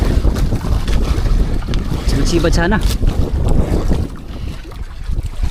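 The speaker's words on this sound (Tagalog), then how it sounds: "Medyo may hangin pa, manlog pa" Gusty wind buffets the microphone on a small fishing boat at sea, rumbling low and uneven over water and engine noise while someone speaks briefly and birdlike chirps flicker in the middle.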